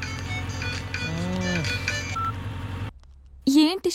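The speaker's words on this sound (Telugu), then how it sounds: "ఎవరో ఫోన్ రా" A mobile phone rings with a repeating beeping tone melody for a few seconds, stops abruptly, then a voice speaks.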